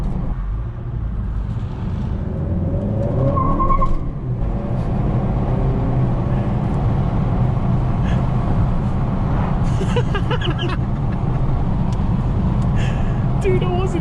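Honda Accord Sport with the 2.0 turbo engine driving, steady road and engine noise with a brief rising revving pass, mostly under continuous talking from the occupants.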